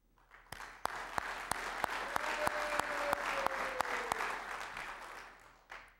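An audience at a Contra Costa County Veterans Day ceremony applauds elected officials, a swell of clapping that builds and holds steady with a few loud individual claps close by, then fades out.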